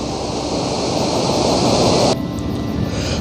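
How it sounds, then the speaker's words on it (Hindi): Chitrakoot waterfall on the Indravati river in Chhattisgarh, heard as a loud, continuous broadband roar of falling water that holds steady throughout, with a slight drop in brightness near the end. "छत्तीसगढ़ का सबसे प्रमुख जलप्रपात है चित्रकूट, इंद्रावती नदी पर स्थित चित्रकूट जलप्रपात।"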